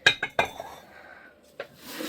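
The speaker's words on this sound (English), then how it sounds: "These terracotta pots that are kind of tall and a little bit taller than normal." Tall terracotta pots clack and clink together as they are handled, three quick hard knocks close up, a pause, then one more knock before a soft rustle.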